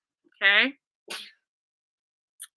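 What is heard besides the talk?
sneeze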